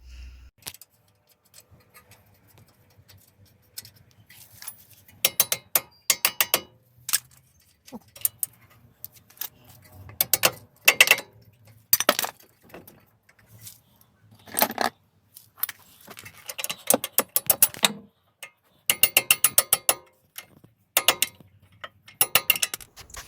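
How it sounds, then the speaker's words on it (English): Metal clanks, ratcheting and tool rattles come from work on the front strut bolts of a Honda Civic during a broken coil spring replacement, arriving in irregular bursts of close, sharp clicks and jangles with quiet gaps between them. "So now we're gonna remove these two bolts out."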